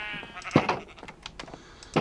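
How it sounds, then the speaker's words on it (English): A Minecraft sheep bleats in a short wavering call, close and clear, with a second bleat starting at the end amid faint game clicks and rustle. "there should be another sheep in there"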